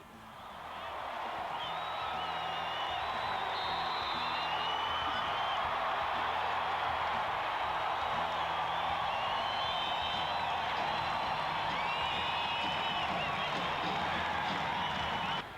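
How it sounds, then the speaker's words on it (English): A home crowd at Hilton Coliseum roars through a college women's basketball game, a steady, dense wall of cheering that swells in at the start and holds loud throughout, with faint whistles or whoops riding on top. "the Hilton crowd gets loud"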